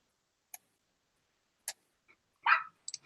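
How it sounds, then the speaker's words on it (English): A dog barks once at moderate distance during an online campus Q&A. The short, sharp bark stands out against near silence and is surrounded by a few faint clicks and ticks. "No, I'm hearing dogs."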